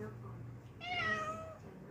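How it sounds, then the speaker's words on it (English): A roughly nine-year-old cat indoors lets out one clear, rising meow near the middle, close and moderately loud, set against quiet room tone with a person talking softly before it. "He just meows a lot"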